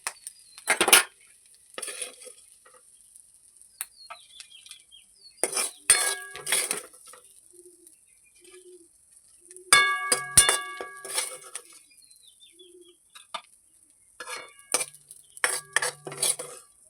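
A metal spoon stirs cooked snails in a pan and lifts them out, making sharp clanks and clinks against the pan in scattered bursts, with ringing metallic tones and quiet gaps between them.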